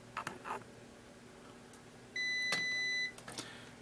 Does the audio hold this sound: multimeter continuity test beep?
yes